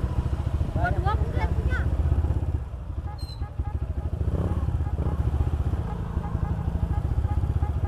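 A motorcycle engine runs steadily nearby with throttle bursts, amid congested traffic clatter in front of a mosque and people talking over it.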